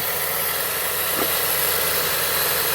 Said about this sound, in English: I got the engine on.